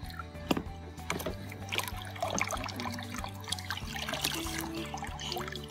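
Water pours and trickles into a Finding Dory Whirlin' Waves children's water table toy outdoors, with close splashing, dribbling and light plastic knocks continuing unevenly over a low background hum.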